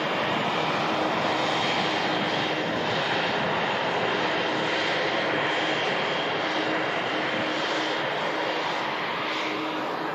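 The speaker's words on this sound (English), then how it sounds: "This NetJet citation arriving in from the Isle of Man." NetJets Cessna Citation business jet arriving at Manchester Airport after a flight from the Isle of Man, its steady engine roar heard from a distance, sustained and even throughout with no talking.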